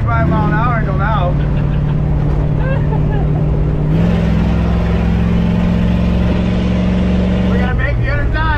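An old street sweeper runs at high speed, its engine droning loud and steady with a pitch rise midway, while voices talk over the noise throughout.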